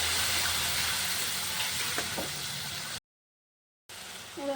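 Ground spice paste dropped into a pan with frying potatoes, giving a steady broad hissing sizzle with light stirring scrapes, cut off briefly by a stretch of silence before it resumes.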